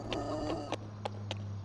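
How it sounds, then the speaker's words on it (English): Chickens in a farm pen in Farming Simulator 25 give a few short, separate clucks over a steady low background hum, moderately close and without talking. "Then we do have a chicken pen over there as well."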